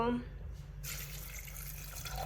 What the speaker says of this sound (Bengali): এখন এখানে পরিমাণ মতো পানি দিয়ে দিব